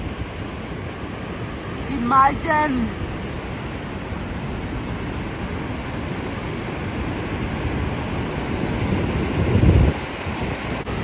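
Heavy rushing water from the Epupa waterfalls on the Namibia–Angola border, a steady loud roar filling the whole clip, with a brief spoken word early on.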